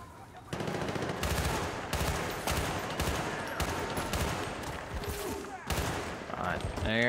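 Rapid automatic gunfire in the shooter game Battlefield Bad Company 2, loud and close, sustained bursts rattling almost continuously with brief breaks, plus a short pause near the start and a sharper burst at the end.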